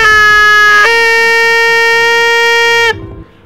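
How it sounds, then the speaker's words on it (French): A loud, blaring air horn sounds in one long blast, shifting pitch briefly near the start before cutting off abruptly. "je vais sortir ma super corne de brume"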